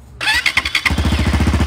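A Crossfire motorcycle on an off-road trip fires up with a single press of the starter: a brief whirring crank, then it settles at once into a loud, close, steady, chugging idle.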